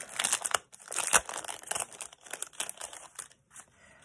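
Plastic packaging of a Tags and Cards collection of Christmas flashcards being opened, with loud close crinkling and tearing in continuous rustling bursts that fade toward the end.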